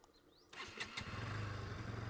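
A Bajaj Pulsar NS200 motorcycle starts after a quiet half second, then its engine settles into a steady, close, throbbing idle with an even beat.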